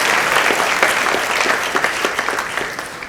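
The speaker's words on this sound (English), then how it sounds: "Please welcome the Academy's founder and Chairman Emeritus, Mr. Nanak Rupani, with a huge round of applause." Loud, dense audience applause fills a hall at an academy's anniversary global awards function as the founder and chairman emeritus is welcomed, many hands clapping steadily throughout with no break.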